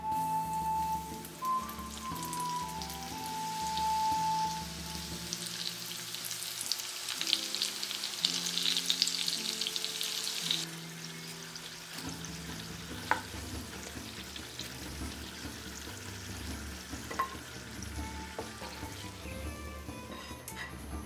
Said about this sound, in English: I'm going to heat some oil in a pan and then cut this into little strips and fry them off